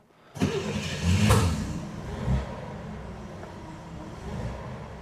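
A 1966 Chevy Corvair engine fitted with a newly installed HEI distributor cranks and catches abruptly, revs up loudly, then settles into a steady idle close by with one brief rev partway through.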